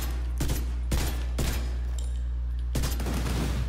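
Heavy weapon fire in The Division 2 against an enemy target: a few loud separate shots about half a second to a second apart, each with a ringing tail, over a steady low hum.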